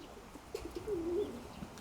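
A young pigeon gives a soft, brief coo, faint against quiet outdoor background, with a few small sounds around it.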